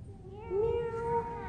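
A person imitates a cat's meow during a church gathering with a single drawn-out, rising-then-level vocal meow lasting under a second, close and clear against a quiet room.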